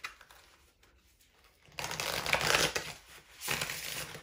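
Tarot cards are handled and shuffled close by: a quiet riffling start, then a louder, crisp run of papery shuffling and flicking before a short final burst.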